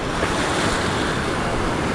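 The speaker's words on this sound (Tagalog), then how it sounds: "may dumadating na alon" Ocean waves wash in at a busy beach as a steady, loud, broadband roar, with continuous surf and wind noise throughout and no clear speech.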